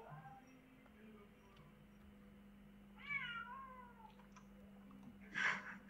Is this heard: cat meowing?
yes